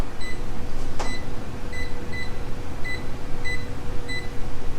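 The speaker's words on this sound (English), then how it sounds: "Okay, let's set the timer." A kitchen timer beeps in short, evenly spaced high electronic tones against a steady background hum in a home kitchen while lamb riblets and roasted potatoes cook, with one sharp click near the start.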